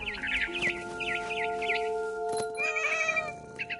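A cat meows repeatedly in a quick series of rising-falling cries, then gives a longer drawn-out yowl, with a faint steady hum and some clucking fowl in the background.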